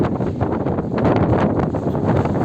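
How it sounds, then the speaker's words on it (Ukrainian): Strong, gusty storm wind roars and buffets the microphone continuously at a construction site in Vancouver, Canada, a loud rushing blast with no other clear sounds. "Як вам погодка? сьогодні прям буря."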